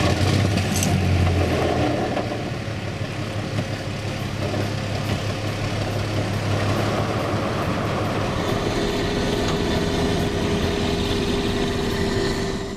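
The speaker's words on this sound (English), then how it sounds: "So we'll warm up the engine, yes. Let's see if the engine works." The engine of the hovercraft Sabvabaa warms up in the high Arctic, giving a loud, steady, broadband roar with a low rumble that continues without a break.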